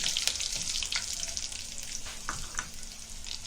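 Curry leaves and tempering sizzle in hot oil for dal, a steady bright hiss with light crackles throughout, close and moderately loud, with no voices.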